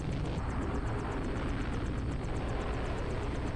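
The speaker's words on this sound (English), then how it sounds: "I'm so worried about Jock and his helicopter" Helicopter flying in the video game Deus Ex, a steady rotor drone with faint periodic chopping, continuous and fairly quiet throughout the short stretch without speech.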